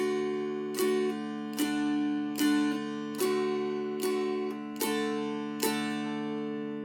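A dulcimer plays a slow tune, each note struck sharply over a sustained drone, about one note per second.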